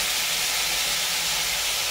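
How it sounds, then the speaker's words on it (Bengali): Potatoes frying in hot oil in a kadai give a dense, steady hiss of sizzling, loud and even for the whole stretch with no talk over it. "এবার আলুগুলো দিয়ে দেওয়া হলো কড়াতে।"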